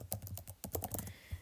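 Typing on a computer keyboard: a quick, faint run of soft key clicks, close by, with no talk.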